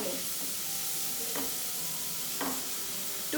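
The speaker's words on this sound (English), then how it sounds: "add this on a pan and let it saute" Moong dal batter sizzles steadily in a hot pan over a very high flame with a constant hiss, broken by a couple of brief scraping stirs.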